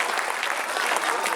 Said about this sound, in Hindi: अच्छा लग रहा है तो तालियों के साथ बताते रहिए